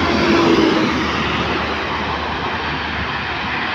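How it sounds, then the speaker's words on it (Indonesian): A Quantrans intercity bus running from Pekanbaru to Malang passes on the Merak-Jakarta toll road, its broad engine and road roar swelling briefly and then settling into a steady rumble as it goes by. "Bus Quantrans yang dari Pekanbaru menuju Malang"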